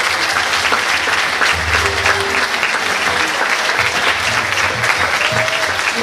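An audience at a community radio station's anniversary celebration gives a fado singer loud, continuous applause, a dense crowd of clappers with faint tonal sounds beneath.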